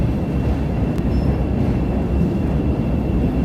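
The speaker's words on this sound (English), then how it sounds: "Green Line train. Look at it go. Look at it go around the bend here." A Chicago Green Line elevated train rumbles around a bend, a loud continuous roar of wheels on track with a faint squeal, close and steady throughout with no talking.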